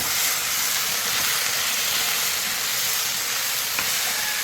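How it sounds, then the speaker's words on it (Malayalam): Okra fries in a pan with a steady, broad hiss and sizzle, close and even throughout, with a faint click near the end and no talking. "നമ്മുടെ വെണ്ടയ്ക്ക ഒന്ന് ഇളക്കി നോക്കണ്ടേ"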